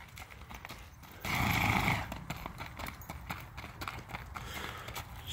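A gaited horse's hooves clop in a quick, even rhythm over several seconds, with a brief whinny-like burst early on, close and clear.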